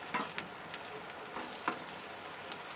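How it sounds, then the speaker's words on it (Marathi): Onion sautéing in a pan with five garlic cloves and curry leaves for a homestyle cluster-bean curry, a soft steady sizzle with a few brief louder crackles and pops, fairly quiet and close, with no talk. "पाकळ्या पाच टाकले कढीपत्ता टाकून घेतले आपण मस्त कांदा परतून घेणार आता"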